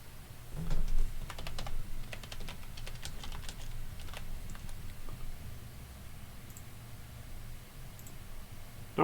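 Typing on a computer keyboard into a search box, a steady run of quick close key clicks with uneven rhythm over a low background hum, with no voice.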